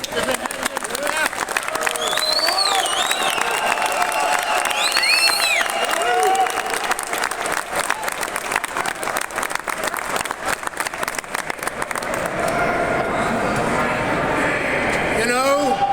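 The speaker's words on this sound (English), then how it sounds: "Please join me in another round of applause" A large audience gives a long, sustained round of applause, dense clapping with scattered cheers and whoops, while voices call out and chatter over it throughout.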